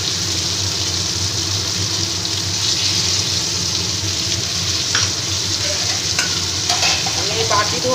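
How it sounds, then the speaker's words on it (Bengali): Water from rinsing a bowl is poured into a frying snakehead fish curry, setting off a loud, continuous sizzle and bubbling that keeps going the whole time, with a few clinks and splashes near the end. "আমি বাটি ধোয়া জলটা দিয়ে দিচ্ছি।"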